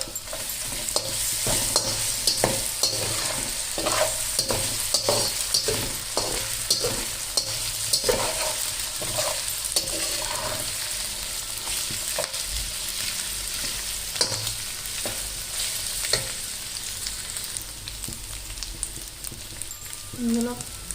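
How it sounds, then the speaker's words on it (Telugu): Ginger garlic paste sizzles and fries in a pan for egg fried rice, a steady dense crackle with repeated stirring scrapes throughout, close and continuous. "ఇట్లా ఇవి ఫ్రై అవుతున్న టైంలో కొంచెం జింజర్ గార్లిక్ పేస్ట్ వేసుకున్నాం."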